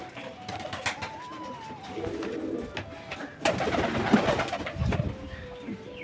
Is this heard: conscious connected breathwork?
no